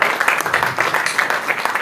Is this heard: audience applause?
yes